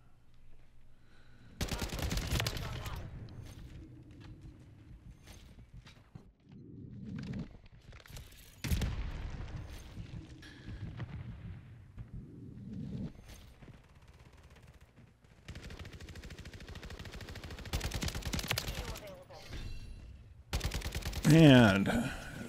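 Gunfire from the JAK Requiem in a shooter video game, sharp bursts of automatic fire in several separate volleys with quieter gaps between, close and loud.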